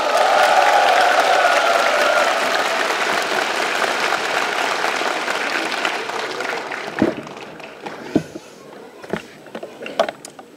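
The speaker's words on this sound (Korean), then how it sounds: "큰 박수 부탁드립니다" Loud applause from a talk-concert audience in Daegu, a dense roar of clapping that slowly thins out, leaving a few scattered claps and thuds near the end.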